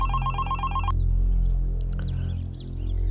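A phone ringtone with a repeating electronic melody plays loudly for about a second, then cuts off, leaving a low hum and faint chirpy sounds.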